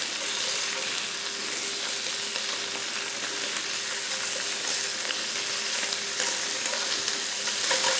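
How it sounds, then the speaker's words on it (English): Sausages frying in a hot pan with potatoes, a dense, continuous sizzle and crackle heard close up and fairly loud, with occasional sharper pops and no talking. "now our sausage is starting to crisp up and look really nice and brown"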